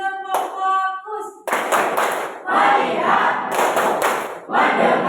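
A classroom group claps out the rhythmic 'tepuk fokus' focus chant, bursts of hand claps mixed with children's chanting voices, loud and close, following a brief spoken lead-in.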